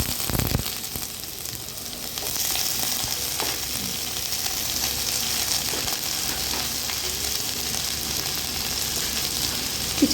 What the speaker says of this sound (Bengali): চিচিঙ্গেটা দিয়ে ভালো করে নাড়িয়ে নাড়িয়ে ভাজতে হবে